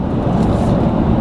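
A 2014 Chevrolet Silverado pickup engine pulls hard near five and a half thousand RPM during a full-throttle run, a loud, steady low roar that holds without a break and carries no talk.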